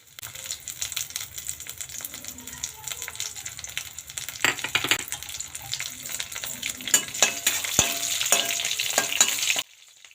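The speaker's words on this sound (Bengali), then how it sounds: "ফোড়নটা একটু ভাজা ভাজা হলে" Sun-dried lentil bori, green chillies and nigella seeds frying in mustard oil, a dense hissing sizzle with rapid crackles and pops that builds louder before cutting off abruptly near the end.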